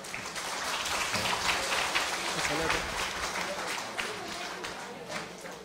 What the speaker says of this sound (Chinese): 我们再次以热烈掌声谢谢